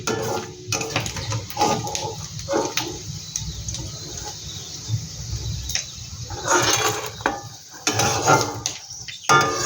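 Fried kachki fish being lifted out of a frying pan, with irregular bursts of metal utensils clattering and scraping against the pan over a low kitchen background, close by and fairly loud.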